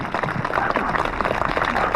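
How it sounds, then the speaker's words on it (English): A crowd applauds at a truck camper adventure rally, dense, steady clapping from an outdoor gathering that stays even and continuous, with no one speaking over it. "A round of applause for all the instructors who are volunteering their time."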